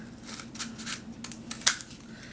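Scissors make several quick, close snips while trimming faux melted candle material, with one sharper cut near the end and faint rustling between them.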